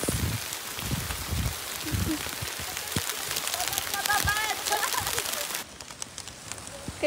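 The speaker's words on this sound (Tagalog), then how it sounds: "It's rain." Heavy rain pouring on a mountainside, a dense steady hiss with scattered thumps and crackles, while people chatter over it.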